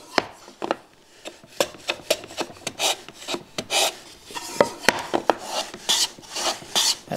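Hand plane takes shavings across end grain on a wooden shooting board, giving short scraping, rasping strokes in an uneven rhythm, close and moderately loud, with no voices.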